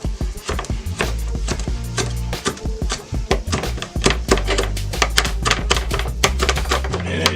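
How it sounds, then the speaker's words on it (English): A knife chops cilantro on a cutting board in a rapid series of close, sharp knocks, sometimes in quick bursts, with no talking. "we're just going to chop it up"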